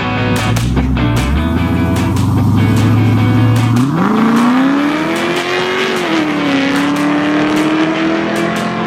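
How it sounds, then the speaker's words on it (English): A C6 Corvette fitted with headers and an aftermarket exhaust revs hard, its loud, raspy engine note climbing steadily in pitch, holding high, then easing slightly, close and continuous throughout. "That is his C6 Corvette with headers and an exhaust."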